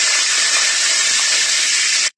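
Dried red chillies and bay leaves sizzling in hot white vegetable oil, a steady loud hiss that holds evenly for about two seconds and then cuts off abruptly.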